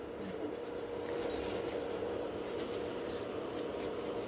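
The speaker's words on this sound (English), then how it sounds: "now I'm just going to take a file and touch up any other places I think like are not even" A file rasps steadily across gel nails, shaping and evening the free edge in a continuous close scratching that stays fairly even throughout, with no talking.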